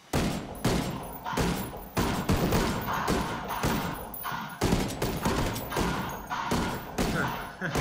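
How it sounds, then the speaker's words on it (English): Rapid bursts of automatic gunfire in the tactical shooter Ghost Recon Wildlands, the Ghost War PvP beta on the Lumber Mill map, with loud repeated volleys cracking one after another in a steady, dense rhythm for several seconds. "He's just shooting the crap out of that dude."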